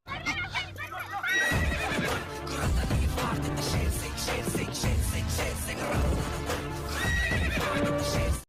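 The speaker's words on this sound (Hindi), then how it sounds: "पवन भैया ने एंट्री घोड़े पे बैठ के मारी है" A horse in a film entry scene neighs loudly over dramatic music, followed by rapid clip-clop hoofbeats under a pounding score, with another whinny near the end.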